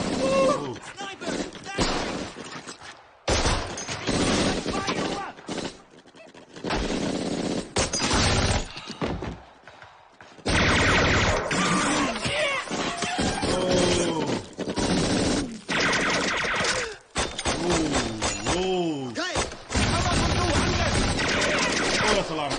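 Dense machine gun and rifle fire rattles in rapid bursts through a battle scene in a Band of Brothers war TV episode, loud and nearly continuous with brief pauses, with shouted voices mixed in.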